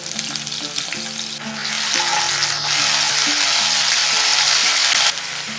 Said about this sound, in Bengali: আদাটাকে 30 সেকেন্ডের মতন ভেজে নিয়েছি